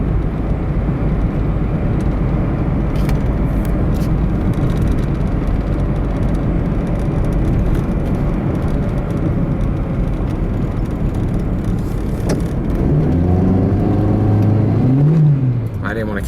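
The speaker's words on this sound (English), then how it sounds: "Zippy little car." A small, zippy car's engine drones steadily as it climbs a hill, loud and close throughout, with the pitch rising in a rev near the end as it works through the gears.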